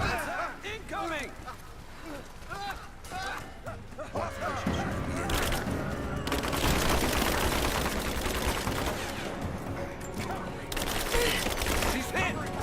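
Gunfire rages in Rise of the Tomb Raider as Lara Croft fights, bursts and volleys growing denser and louder after the first few seconds, with voices shouting over the combat throughout.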